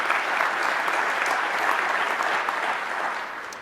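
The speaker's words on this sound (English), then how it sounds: "give a hand clap for that." Sustained audience applause at an Indiana University athletics hall of fame induction ceremony, a dense steady wash of many hands clapping that fades slightly toward the end, with no talking over it.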